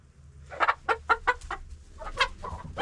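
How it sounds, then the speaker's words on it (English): An Easter Egger chicken, a blue-egg laying hen, clucks in a run of short, close, rhythmic bursts with brief pauses, standing alone without talk. "It's my favorite chicken."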